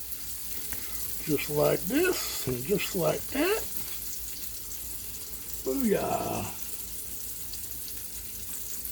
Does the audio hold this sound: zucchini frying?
yes